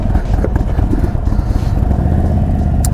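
An Indian Chief Dark Horse motorcycle with a Stage 2 setup idles steadily nearby, a loud continuous low rumble with a lumpy, pulsing rhythm throughout.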